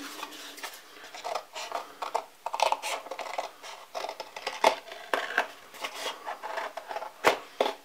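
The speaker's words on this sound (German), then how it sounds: "Und dann schneiden wir das Ganze noch aus. Dafür nehmen wir lieber eine Papierschere." Paper scissors cutting sturdy cardboard, irregular crisp snips and rustling crunches repeating over several seconds, close and fairly quiet with no talking.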